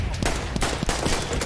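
Rapid gunfire from a weapon in the World War I shooter Battlefield 1, a dense run of sharp cracks layered over constant battle noise, loud and close with no pauses.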